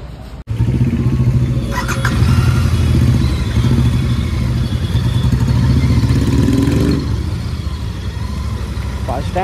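A Royal Enfield Continental GT 650 motorcycle runs steadily and loud up close after a sharp start, its engine rumble continuous with some clatter throughout.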